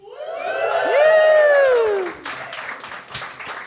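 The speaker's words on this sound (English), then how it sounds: "now yell and scream very loudly." A live comedy club audience at a cafe in Berlin yells, screams and whoops loudly together, a sustained rising roar that breaks into scattered clapping and cheers.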